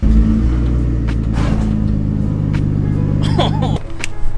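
Turbocharged BMW E46 on the road, its engine and exhaust giving a loud, steady rumbling drone under acceleration that cuts off abruptly near the end, with brief whoosh and flutter sounds over it.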